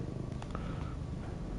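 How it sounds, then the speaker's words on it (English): A cat purrs up close with a continuous low rumbling vibration, soft and steady for a brief moment. "But he's almost definitely purring."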